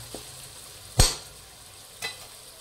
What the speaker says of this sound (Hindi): हमेशा इसको मीडियम फ्लेम पर रख के ही अदरक लहसुन को दो मिनट तक पकाना है